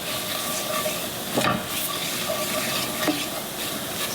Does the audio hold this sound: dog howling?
no